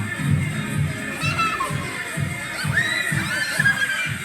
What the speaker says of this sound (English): They were all cheering me.